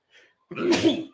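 A single loud sneeze bursts out close by after a brief faint breath, strong and abrupt, with no talk over it.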